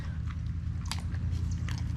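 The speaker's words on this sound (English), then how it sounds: "She said she's crunching them right on up." Chickens crunching on nuts at breakfast in a farm chicken pen, a steady run of close, quick biting and crunching clicks over a low background hum.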